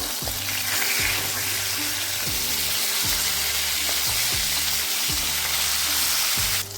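Rohu fish pieces rubbed with salt and turmeric keep frying in white oil in a wok after being turned over, a loud, dense, continuous sizzle close by, with a low rhythmic hum repeating beneath it.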